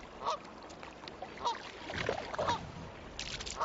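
A female Canada goose gives honking calls, several short bursts spread across a few seconds against a watery outdoor background, moderately close and fairly clear.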